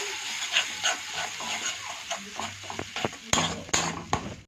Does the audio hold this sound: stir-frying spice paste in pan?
yes